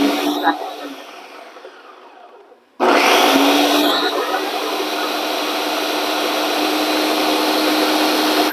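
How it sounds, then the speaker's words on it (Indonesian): An electric blender starts abruptly and runs steadily and loudly, grinding fish into paste for pempek in a home kitchen, after a few seconds of quieter sound. "Kita blender."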